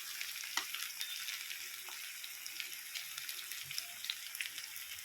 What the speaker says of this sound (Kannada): ಶುಂಠಿ ಬೆಳ್ಳುಳ್ಳಿ ಪೇಸ್ಟ್ 1 ಸ್ಪೂನ್ ಅಷ್ಟು ಹಾಕ್ಕೊತಾ ಇದ್ದೀನಿ.